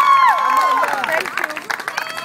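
Audience applause and cheering crowd noise at a school competition as grade-level representatives are called up, a dense steady wash of clapping mixed with voices throughout.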